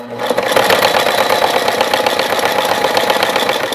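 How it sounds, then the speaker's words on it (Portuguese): A sewing machine stitches fabric for a double pencil case with a loud, close, steady whirring hum of fast needle strokes that runs without pause and without talk. "Mas eu não tô apertando, eu só tô costurando."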